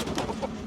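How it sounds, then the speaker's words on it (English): Chickens cluck from a backyard coop as the flock is let out, a short burst of fowl calls close by and fairly loud. "We got chickens in there. Chickens, come out."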